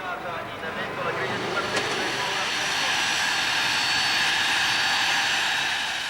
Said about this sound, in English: Ayrton Senna flies into Milan in his own private jet.